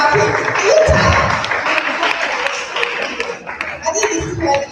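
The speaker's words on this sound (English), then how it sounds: "Keep clapping." Audience applause at the TENT Gathering 2014 conference, dense and loud clapping from a crowd continuing throughout, with a voice talking over part of it.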